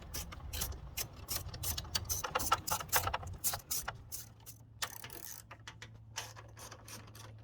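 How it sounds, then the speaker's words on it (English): A ratchet removing the three 10mm screws from the grille of a 2022 Chevrolet Silverado 1500, with rapid close clicking bursts that start dense and then thin into scattered clicks over a faint hum. "The last thing we're going to do before we take the grill off is remove the 3 10mm screws."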